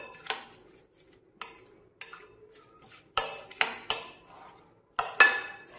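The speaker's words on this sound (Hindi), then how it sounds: "इसको करते हैं मिक्स।" Spoon clinking and scraping against a bowl while cream and mayonnaise are stirred together for fruit chaat, in short separate bursts of a few knocks each, close and fairly quiet with no talking.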